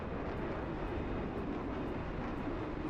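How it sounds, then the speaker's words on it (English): Helicopter flying in a military exercise, heard as a steady, dense engine and rotor roar that stays constant and fairly close throughout, with no speech. "No, it's a helicopter."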